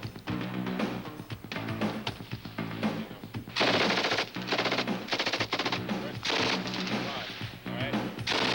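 Women Marines firing weapons on a range in 1989, bursts of rapid automatic gunfire and scattered shots cracking loudly at close range, with occasional voices between volleys.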